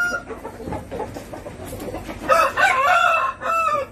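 Young chickens of a champion bloodline on a small farm, heard as close, loud clucking and chattering calls that swell in the second half, alone without talk.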